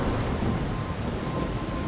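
Steady rain with a low rumble of thunder during a thunderstorm in the video game Life Is Strange, a dense, even wash of downpour with no voices.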